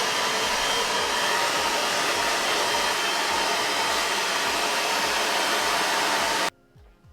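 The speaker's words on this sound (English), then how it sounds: "So I'm going to get this blow dried, get it styled" A hair dryer blow-dries a wolf cut on fine hair, a loud steady roar running close for about six and a half seconds before it cuts off abruptly into near quiet.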